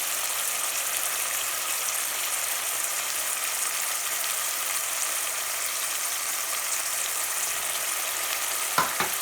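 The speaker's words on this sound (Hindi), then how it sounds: "ये मसाला हमारा भुन रहा है" Spiced tomato masala with red chilli powder and cumin frying steadily in a pot, a continuous soft sizzle with a couple of brief stirring knocks near the end, no talk.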